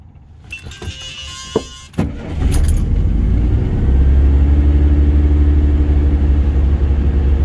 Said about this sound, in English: It's cold, but let's do a cold start.